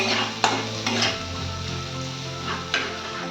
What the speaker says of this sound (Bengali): পেঁয়াজটা এবার ব্রাউন করে ভাজতে হবে।